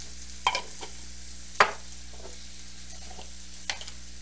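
A flour roux cooks in a pan, giving a soft, low sizzle broken by a few sharp scrapes and clinks of stirring, close and quiet, with no voices.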